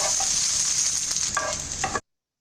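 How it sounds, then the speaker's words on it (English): Onions sauteing lightly in a pan produce a constant, close hiss, with a few soft clinks and scrapes as they are stirred before the sound cuts off abruptly. "And we can add the onions now. And we'll give it a quick mix."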